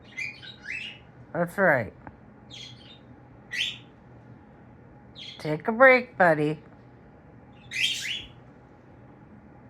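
A pet parrot gives loud, harsh, alarm-like calls in several short bursts of repeated squawks and chirps, close by, while a person speaks calmly between the calls.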